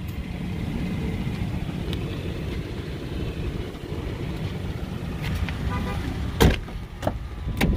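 2005 Ford Explorer Sport Trac engine idling, a steady low rumble heard close and moderately loud, with a few sharp knocks and clicks near the end.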